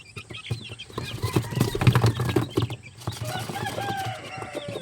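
Young chicks kept in a cage let out a busy run of high peeping chirps, fairly close, over a low background rumble with no talking.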